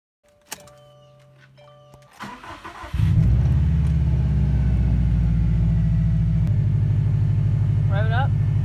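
A 2015+ Subaru WRX STI engine starts after some clicks and tones, then idles and revs in a loud, steady, close drone. A faint chirp comes near the end.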